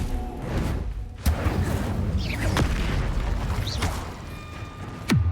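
Spell effects from the video game Hogwarts Legacy, including the Incendio fire spell, crack and whoosh repeatedly over a rumbling background, with several sharp bursts and swooping tones spread across the passage.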